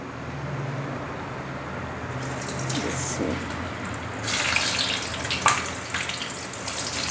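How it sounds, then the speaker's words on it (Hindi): Stuffed tinda are dropped into hot oil in a kadhai, and a broad rushing sizzle swells partway through and keeps going with a few sharper spatters, close and moderately loud, with no speech. "इनको अच्छी तरह से फ्राई करूँगी"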